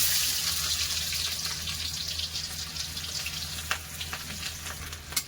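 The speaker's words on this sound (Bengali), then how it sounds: "পেঁয়াজটা ভাজা ভাজা হয়ে এসছে" Chopped onions with whole cumin and green chillies sizzle steadily in hot oil, with a few sharp pops and light clinks toward the end; no one speaks.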